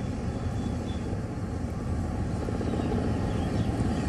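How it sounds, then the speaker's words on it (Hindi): A helicopter runs steadily throughout a security mock drill at Parliament in Delhi, where commandos landed on the roof, giving a loud, continuous low rotor and engine roar with no speech. "इस दौरान हेलीकॉप्टर के जरिए कुछ कमांडो संसद भवन की छत पर भी उतरे थे।"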